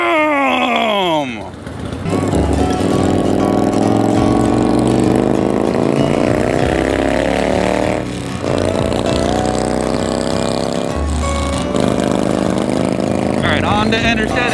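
A 1986 Harley-Davidson Evo motorcycle with a loud, obnoxious exhaust drones steadily and close at cruising speed, with a brief dip in the engine note partway through and a voice heard at the start.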